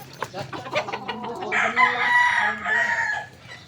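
Golden Boy gamecock stags in a backyard: a rooster crows loudly and clearly near the middle, preceded by a series of short clucks, with faint voices underneath.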